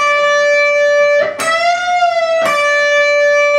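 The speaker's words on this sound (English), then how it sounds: "just try and work this bend up and keep the note sustained coming back down" An electric guitar note from a solo, bent upward and held with steady sustain, then brought back down, with a second pick attack near the end; clear, loud and solo without voices.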